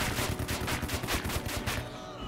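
Rapid bursts of gunfire crackle in the World War 2 strategy game Headquarters: World War 2, a quick rhythmic volley of shots that cuts off abruptly near the end.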